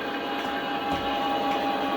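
A Lionel Legacy model diesel locomotive plays its emergency stop sound effect: a loud, steady hissing rumble like air brakes venting under engine noise, continuous for the whole stretch with no speech.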